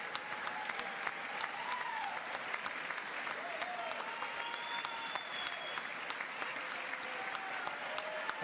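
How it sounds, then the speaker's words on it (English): Sustained applause from an audience at a congressional hearing, a steady dense wash of clapping that carries on for several seconds without a break. "there's no way they need to clap that long"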